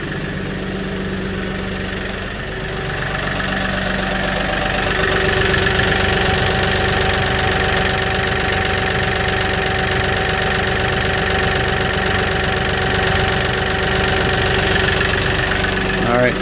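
A Kioti NX4510 tractor's diesel engine idles steadily with a low, rumbling chug, growing slightly louder partway through and holding a constant, close-up drone.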